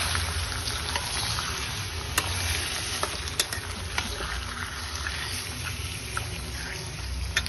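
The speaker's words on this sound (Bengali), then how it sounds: "চিকেনগুলোকে একটু ভাজা ভাজা করতে হবে।" Chicken pieces frying in a pan with a steady sizzle throughout, punctuated by occasional sharp clicks and spatters, close and continuous with no talking.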